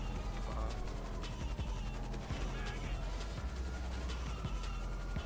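Police gunfire crackles in GTA V, rapid bursts of shots layered over a dense rumble of engine and rotor noise, loud and continuous throughout, with no talking.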